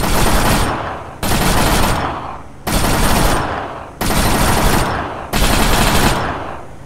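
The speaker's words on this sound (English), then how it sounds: "we're taking small arms fire" Loud bursts of small-arms gunfire during LAV driver training, five sustained volleys of roughly a second each with brief gaps between, close and harsh, with no talking.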